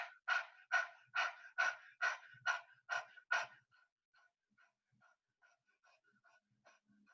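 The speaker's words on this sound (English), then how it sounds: "stick your tongue out and pant like a dog" A person pants like a dog with tongue out, producing about nine rapid, evenly spaced breathy huffs close to the listener, then trailing into faint, softer breaths and quiet sounds.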